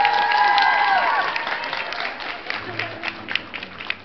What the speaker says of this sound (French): il mérite aussi un tonnerre d'applaudissements